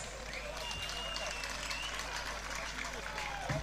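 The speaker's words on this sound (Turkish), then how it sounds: "Baş pehlivanlarımıza şimdi moral alkışı istiyoruz." Crowd at an Antalya Kumluca oil wrestling final applauding the head wrestlers, steady distant clapping spread across an outdoor arena, mixed with crowd noise and voices.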